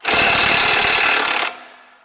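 A power tool rattles rapidly as it removes a 16 mm pinch bolt on an Audi S4 during a spring install, one loud continuous burst of about a second and a half that stops abruptly, then a short fading ring.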